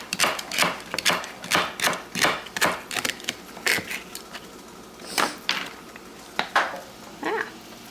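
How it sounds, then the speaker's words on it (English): A knife slices through celery on a cutting board for a Cajun pot pie, making a steady run of crisp, close chopping taps that slow to a few scattered cuts near the end. "And that is how you slice some celery there"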